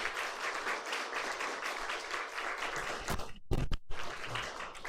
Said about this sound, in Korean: 우리 감사의 박수, 또 격려의 박수 하겠습니다.